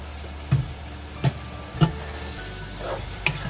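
Chopped garlic stirred into a sizzling pan for a keto broccoli slaw and ground beef stir fry: a steady fry hiss with four soft scrapes of a spoon at even intervals, close and moderately quiet.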